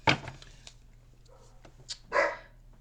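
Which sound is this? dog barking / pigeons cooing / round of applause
dog barking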